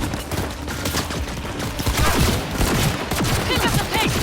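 Gunfire in Cyberpunk 2077: a dense, rapid fusillade of shots from several weapons, loud and close, with a continuous rattling texture over low rumble and faint shouting voices underneath.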